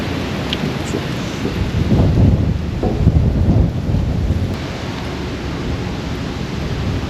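Strong outdoor wind in the town of Tartu, Estonia, buffets the microphone as a loud, continuous low roar that swells in the middle and then settles into a steady rush.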